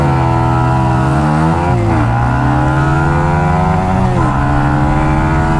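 A Bajaj Pulsar N160 motorcycle revs hard during a drag race against a Yamaha MT15, its engine climbing and dropping through several rising pitch sweeps, loud and close throughout.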